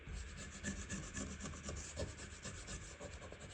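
Softened finish being scraped off a wooden gun stock by hand, a steady rasping rub of repeated close strokes with no pauses.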